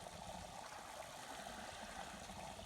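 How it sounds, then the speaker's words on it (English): A small waterfall spills out of a pasture field after rain, giving a steady, soft rushing and trickling that stays even throughout, faint and fairly close, with no voices over it. "I heard a waterfall, so I came over here and I found a waterfall coming out of the neighbor's field."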